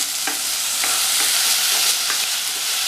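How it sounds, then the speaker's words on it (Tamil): Chopped tomatoes sauté in a hot pan for hotel-style sambar, giving a steady, close sizzle broken by regular soft scrapes of a stirring spoon, with no voices. "தக்காளி வதங்கிட்டு இருக்கும்போதே சாம்பாருக்கு தேவையான அளவு உப்பு சேர்த்துடலாம்."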